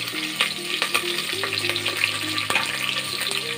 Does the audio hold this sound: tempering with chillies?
yes